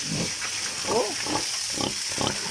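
A pig oinks and grunts in a pigpen during cleaning, several short nasal calls scattered over steady background hiss, with someone speaking nearby.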